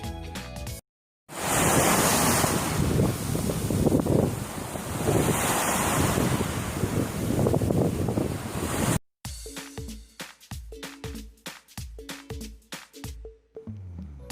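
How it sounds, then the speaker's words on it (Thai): Gentle sea waves wash onto a Koh Samui beach in the morning, a loud continuous surf roar with wind buffeting the microphone, cut off sharply and followed by quieter rhythmic clattering. "หาดทรายและทะเลยามเช้าที่เกาะสมุย คลื่นซัดเบาๆ"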